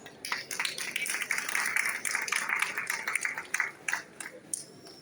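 Applause from an audience at a Euro Skills competition award ceremony in Bochnia, a steady crackle of clapping that stays fairly soft and distant throughout, with no talk.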